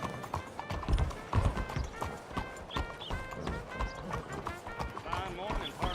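Horse hooves clip-clop in a steady riding rhythm in Red Dead Redemption 2, close and fairly loud, with game music and a voice talking over the hoofbeats.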